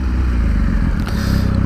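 A 2018 Triumph Speed Triple RS motorcycle pulls over by a wheelie bin, its engine giving a close, loud, steady low rumble with a slight dip in the middle.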